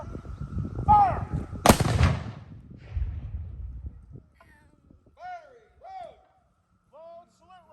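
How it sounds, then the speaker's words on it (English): A single ceremonial salute round fired at a 2021 Memorial Day service for World War II dead: one loud, sharp outdoor blast that rolls off and decays, followed by a quieter stretch with a few chirping calls. "For all those who died in World War II, fire one round."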